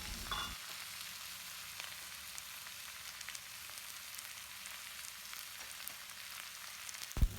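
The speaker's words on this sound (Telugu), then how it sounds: "అప్పుడు మనం ముందుగానే ఉప్పు పసుపు వేసుకొని కడిగి పెట్టుకున్న రొయ్యల్ని యాడ్ చేసుకోవాలి." Prawns meet browned onions in a hot pan, giving a steady, moderate sizzle and crackle that runs throughout, with a sharp clatter near the start and another near the end.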